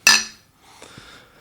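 Glasses meet in a single bright clink for a toast over cold beer, then a few softer clinks and knocks follow at close range, with no talking.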